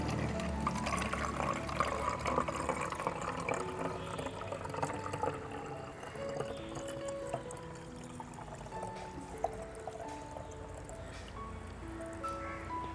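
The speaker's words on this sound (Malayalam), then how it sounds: "ഇനി നമുക്ക് കുറച്ച് വെള്ളം കൂടി ചേർത്ത് കൊടുക്കാം" Water poured into a container to mix a homemade cow-based insecticide and fertilizer, a steady close-up splashing pour running continuously for the whole stretch with no talking.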